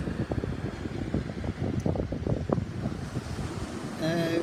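Waves of the Caribbean Sea wash onto a Costa Rica beach lined with coconut trees, a steady surf roar mixed with wind buffeting the microphone.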